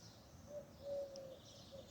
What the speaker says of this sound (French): on peut apprécier le calme et le chant des oiseaux en attendant